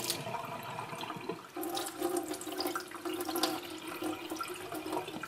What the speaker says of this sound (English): So I'm just going to rinse the rice out.